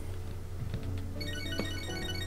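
A phone call ringtone plays in the video game Catherine, a short, faint electronic melody of bright repeating tones that starts partway through over a low steady background hum.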